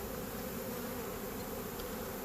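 A swarm of honeybees buzzes steadily around a hive box, a dense, continuous drone with no pauses and no voices.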